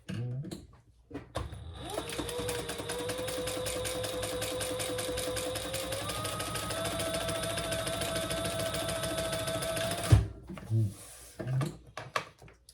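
A sewing machine top stitching a crossbody bag runs steadily for about eight seconds with a fast, even mechanical whir, preceded and followed by brief handling clicks.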